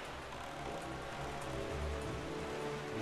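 Steady rain in The Legend of Zelda: The Wind Waker HD, a faint, even hiss of falling drops with a low rumbling undertone, continuous throughout.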